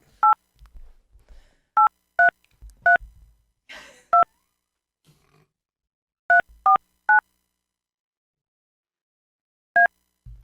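Phone keypad tones as a number is dialed, about nine distinct beeps in uneven bursts, loud and close, with quiet breathing and a sigh between presses.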